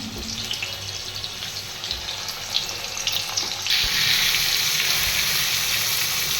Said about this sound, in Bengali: আমি আলুটা আগে ভেজে নেব